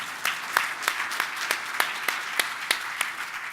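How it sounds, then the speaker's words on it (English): An audience at a testimony gathering claps steadily, with moderate applause and sharp individual claps standing out at a roughly regular beat. "yeah, please applaud."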